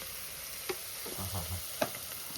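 Spices and chilli powder sizzle gently in hot oil for a jackfruit curry tempering, a soft steady frying hiss broken by a couple of sharp utensil clinks and stirring scrapes.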